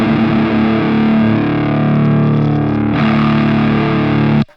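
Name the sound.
distorted electric guitar in drop D tuning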